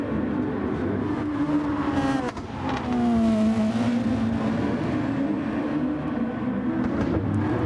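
Race cars in Gran Turismo Sport at Fuji Speedway roar loudly as several engines blend, with downshifts dropping the pitch in quick steps midway before the pack accelerates again, continuous and close throughout.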